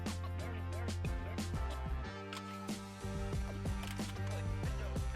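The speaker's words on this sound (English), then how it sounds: "First we have to remove 4 of these rusted screws right here to put in the new shell." Rusted screws are backed out of a Big Green Egg ceramic grill so a new shell can be fitted. Close ratcheting clicks and mechanical ticks repeat in quick runs over a steady tonal background.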